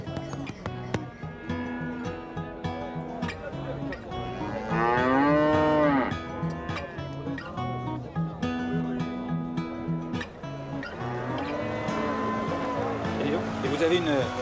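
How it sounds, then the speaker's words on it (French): A cow moos at an Albanian market, its long drawn-out calls rising twice out of busy background noise and voices. "C'est une bonne vache, donc."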